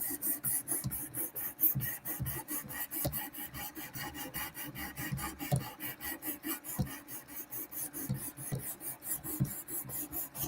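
Repeated rasping strokes of a knife blade drawn across an 800 grit abrasive on a Work Sharp sharpener, a steady rhythmic scraping of roughly even passes, close and continuous with no talking.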